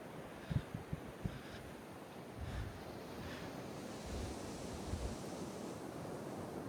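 Atlantic Ocean waves surging and washing steadily at close range, with gusty wind buffeting the microphone and a few sharp splashy thumps near the start.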